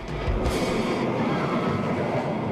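A Steel Phantom hypercoaster train runs along its track, a loud continuous rumbling roar with rattling wheels, steady and close throughout.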